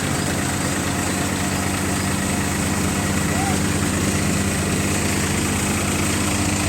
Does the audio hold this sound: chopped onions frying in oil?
no